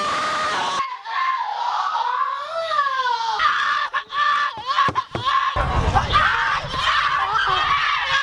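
A man screams theatrically in a shrill, wavering voice for several seconds, rising and falling in pitch, with choppy bursts and breaks toward the end; no other sound competes.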